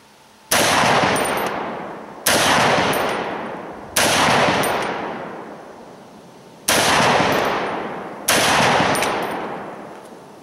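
A Springfield Armory SOCOM 16 rifle fires Winchester NATO .308 rounds outdoors: five loud, sharp shots at uneven intervals, each with a long echoing decay, and no talk.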